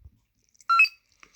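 Short electronic beeps from a Saberforge Nova lightsaber hilt menu, Veteran tier with blue LED: a brief bright tonal chirp near the middle, a fainter blip after it, and quiet surroundings otherwise.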